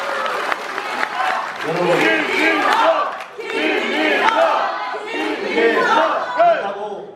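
Audience at a political forum applauding and cheering in sustained waves, with a loud crowd roar swelling and dipping over several seconds while a speaker's voice cuts in between.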